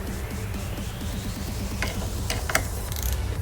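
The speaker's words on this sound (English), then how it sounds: "you're gonna need a 10mm socket to loosen up the bolt, or the nut, should I say" A socket wrench ratcheting on a car battery's negative terminal nut, a rapid steady train of clicks close by over a constant background hum, with a few brighter metallic ticks near the end.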